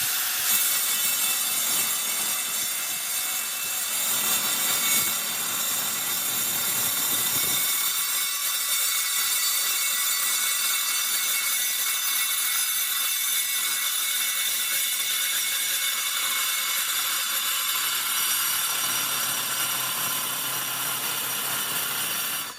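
Steady, continuous sawing through a metal tube, a rasping grind that runs on without pause for the whole stretch, close and fairly loud, with no voices.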